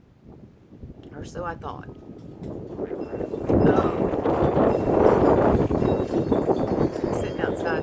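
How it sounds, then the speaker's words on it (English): Wind gusting outdoors, rumbling and buffeting the microphone as broadband noise that swells from about the midpoint on, beneath someone talking while sitting outside on a pretty day. "Sorry, it's a little windy."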